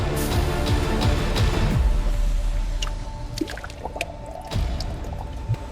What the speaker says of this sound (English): Water mixes to form slurry.